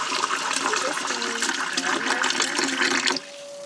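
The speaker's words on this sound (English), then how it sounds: "After about a gallon of water, I was able to break the brick apart" Water poured straight into a compost toilet onto a compacted compost brick, a loud continuous splashing gush that runs for about three seconds, then stops abruptly and leaves a faint steady tone.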